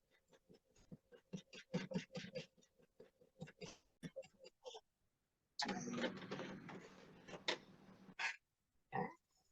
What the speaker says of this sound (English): I'm just going to top stitch right down that side edge of the bag